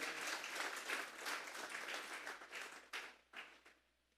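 Faint applause from a church congregation during a Sunday service, a steady patter of clapping that thins out and fades toward the end, with a few isolated claps.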